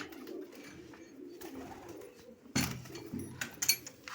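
Soft pigeon cooing rumbles quietly, joined by a burst of fluttering and scuffling noise partway through.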